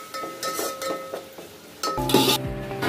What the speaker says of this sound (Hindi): अब हम अपना टमाटर और ये ग्रीन चिली को भी डाल देंगे इसके अंदर, और चम्मच को अच्छे से चला देंगे